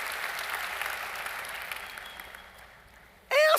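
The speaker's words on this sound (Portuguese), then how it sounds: "Aplauda ao Senhor, meu irmão." Congregation applauding in a church, a broad wash of clapping that gradually fades away, then a sudden loud burst of a different sharp, tonal sound cuts in at the very end.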